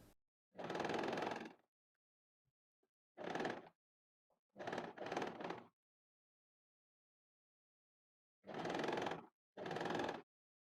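A sewing machine stitching down the folded edge of a kurti made from a saree runs in five or six short bursts of about a second each, separated by near silence.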